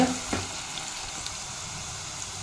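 Green chillies and curry leaves sizzle steadily in oil in a pan for a brinjal side dish, a constant close frying hiss with a faint knock near the start.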